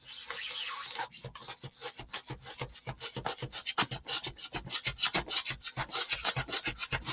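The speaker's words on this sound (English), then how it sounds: "So hopefully this knife has enough to it to get all the way through this." A knife sawing through hobby stock makes close, rhythmic rasping strokes, quick back-and-forth scrapes that run steadily with no voices.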